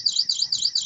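A buzzer alarm driven by an Arduino and triggered by an HC-SR501 PIR motion sensor, giving a loud, steady electronic tone that warbles in a rapid repeating pulse of about three cycles per second, with no voices.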